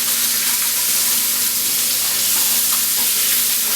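Scallops frying in a hot pan hiss with a loud, unbroken sizzle and fine crackle, steady from start to finish with no voices.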